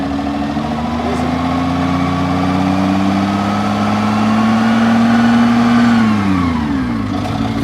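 A Rootes TS3 two-stroke diesel engine runs smoothly, a loud, steady mid-pitched drone that swells slightly before dropping off near the end, with voices talking over it.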